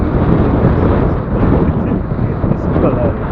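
Strong wind at sea whips past a fishing boat on a light jigging trip ahead of heavy rain. A loud, continuous roar of wind buffets the microphone, and a voice talks underneath.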